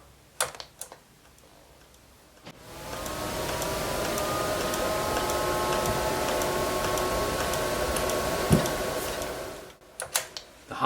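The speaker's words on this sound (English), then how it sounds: "The hard drive's making a funny clicky noise." The hard drive inside a Sega TeraDrive gives off a steady clicking, ticking whir while the machine is powered up, fairly faint and continuous for several seconds, with a few sharper clicks at start and end.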